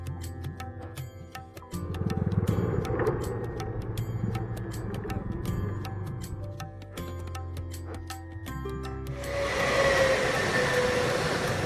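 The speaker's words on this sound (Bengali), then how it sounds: "দীর্ঘ ট্রেন যাত্রা শেষে উত্তরপ্রদেশের গোরখপুর স্টেশনে এসে নামল সুকুমার" A train rolls along with a rapid ticking rattle and low rumble, then a broader hiss rises near the end as it arrives at Gorakhpur station in Uttar Pradesh; no voices.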